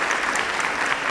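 A crowd at a high school athlete's letter-of-intent signing ceremony claps in steady, dense applause throughout.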